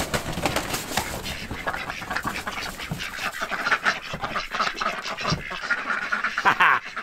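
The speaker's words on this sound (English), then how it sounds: "Wrangling a duck is probably the hardest part because today I'm a duck wrangler." Khaki Campbell ducks quacking while being caught and handled, loud rapid bursts of harsh quacks close by, overlapping and frantic with scuffling between calls, continuing throughout.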